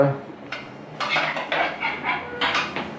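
Onions, tomatoes and meat browning in oil in a pot for Tunisian couscous, stirred with a utensil in a series of scraping, clattering strokes against the pot, close and fairly loud.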